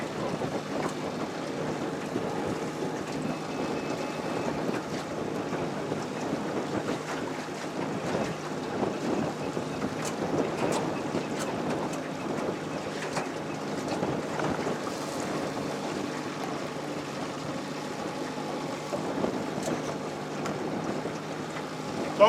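Wind blows steadily across open water around a small fishing boat on a trout outing, a constant broadband rush with gusty buffeting on the microphone and soft lapping beneath.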